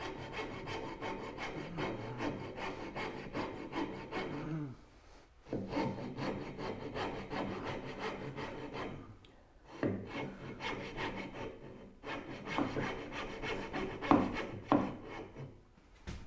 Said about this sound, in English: It's going to be a lot of rasp work